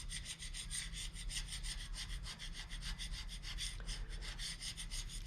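A hand scraper drawn repeatedly across a cast iron grinder table, making steady rhythmic rasping strokes close by, continuous and fairly loud, with no talking.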